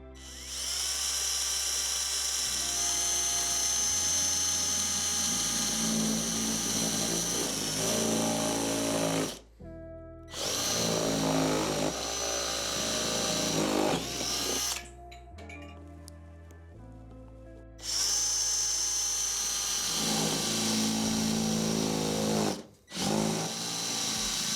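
A power drill bores into a plastic part in a workshop during a custom shop heater thermostat build, a loud steady whine in several long runs with short pauses and pitch shifts between them.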